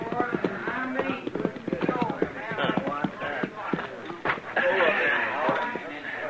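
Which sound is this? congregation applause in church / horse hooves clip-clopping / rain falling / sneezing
horse hooves clip-clopping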